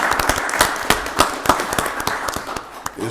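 A round of applause at a county board of commissioners voting session, made up of sharp, separate claps in a loose irregular rhythm, moderately loud and thinning out toward the end.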